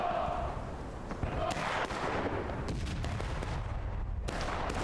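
Artillery fire in the Civil War video game War of Rights sounds as sharp cracks and booms over continuous battle noise and distant musketry, with a few distinct loud hits.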